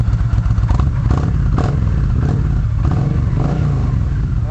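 A modified Yamaha V-Star 1300 motorcycle engine starts and runs loud and close, a continuous rough throbbing rumble with slight rises in revs and some mechanical clatter.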